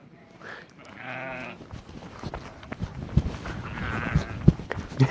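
Sheep on a Moroccan farm bleat in short wavering calls, one clear cry early and fainter ones later, mixed with shuffling steps and scattered knocks nearby.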